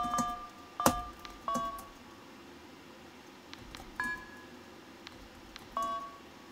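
Phone keypad tones in the FNAF game Five Nights at Freddy's: Into the Pit, a handful of short separate beeps spaced irregularly over several seconds, fairly faint over a low background hum.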